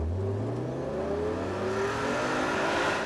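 A Ferrari Testarossa engine revs hard in first gear, its pitch sweeping steadily upward as the car accelerates, loud and close with a constant mechanical roar.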